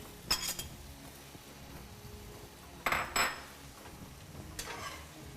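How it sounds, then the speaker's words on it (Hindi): Cabbage is tossed into chow mein in a pan, marked by a few faint metallic clinks and scrapes of a utensil against the pan, separated by quiet stretches. "और अब हम इसमें डालेंगे बंद गोभी।"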